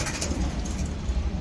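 Punjabi and Madrasi pigeons coo softly at a pigeon market, a low murmur of cooing under steady broadband background noise.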